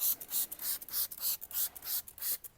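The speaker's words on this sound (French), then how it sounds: "Bon, on remet un petit peu de spray." Holts insect cleaner is sprayed onto a car in rapid repeated short hissing bursts, about ten quick pumps of the trigger sprayer, close and fairly quiet.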